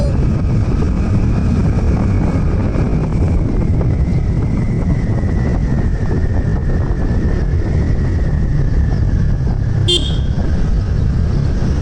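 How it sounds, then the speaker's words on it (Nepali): Loud, steady roadside traffic rumble with wind buffeting the microphone, and a single short car horn toot near the end. "यो चाहिँ बस पार्क जस्तो छ"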